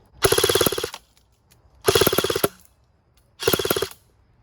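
A Cybergun FN M249 Para airsoft gun fires three loud, close full-auto bursts, each about three-quarters of a second of rapid buzzing shots, with short silent gaps between them.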